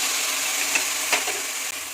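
Onion, curry leaves and split dal fry in hot oil for sambar with a soft, steady sizzle, close by, broken by a couple of brief stirring clinks and no speech.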